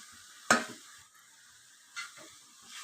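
Masala powder being stirred into chicken frying in a pan, with two distinct scraping strokes of the spoon against the pan over a soft, steady sizzle.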